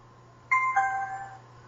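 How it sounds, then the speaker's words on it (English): A portable Bluetooth speaker plays its power-up chime, a short two-note electronic ding-dong that rings out briefly over a faint low hum, heard close by and alone. "So as you can hear, it had a power-up sound."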